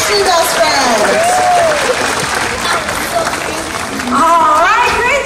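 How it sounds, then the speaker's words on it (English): Audience applause at a SeaWorld San Diego sea lion and otter show, a steady crowd clapping wash with animal calls or whistles sliding over it, swelling louder near the end. "Big round of applause for my three best friends."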